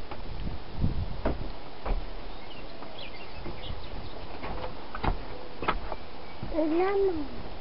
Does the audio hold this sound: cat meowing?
yes